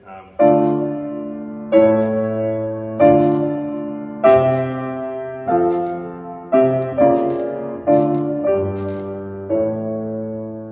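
Piano chords played one after another at a slow, even pace, about ten in all, each sustained and ringing before the next.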